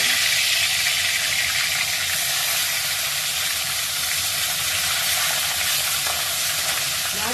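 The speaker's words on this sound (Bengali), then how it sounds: "মাছগুলো কিন্তু আমি খুব ভাজবো না, হালকা ভাজবে" Fish fries in hot salted oil with a loud, steady sizzle and hiss that continues without break throughout, close up.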